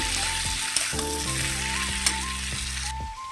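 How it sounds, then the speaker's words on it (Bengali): Potato and capsicum dry curry being stir-fried in a pan, with a close, steady sizzle under a sustained tonal musical background, punctuated by a few brief scraping stirs. "দিয়ে ভালো করে আবারও কষে নেব"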